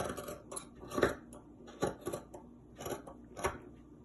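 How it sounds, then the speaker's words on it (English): Scissors cutting through T-shirt fabric, a series of about six crisp, separate snips spaced irregularly, close and fairly quiet. "So first of all, you cut the back."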